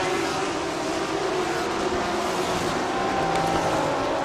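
Race cars at a Thailand Super Series race on a circuit, rounding turn 12 nearby, a continuous loud engine roar with a steady whining drone that holds throughout.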